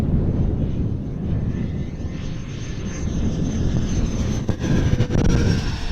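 A Dynam Gloster Meteor twin 70mm electric ducted-fan RC jet on 4s power flying over a runway on a windy day, a loud steady roaring whoosh with wind buffeting the microphone.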